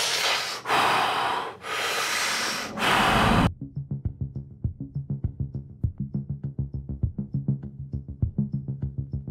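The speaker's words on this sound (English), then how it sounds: "I start breathing." A man breathes deeply in his morning routine just after waking, with three long, loud, forceful inhale-exhale cycles close to the microphone, then a fast rhythmic series of sharp, quick pulsed breaths in a steady beat.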